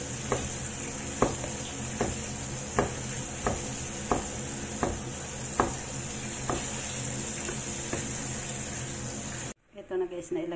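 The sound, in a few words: garlic and chili frying in a pan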